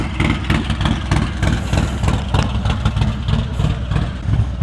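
A motorcycle engine runs steadily and close by, a continuous low rumble with slight rhythmic pulsing throughout, no talking over it.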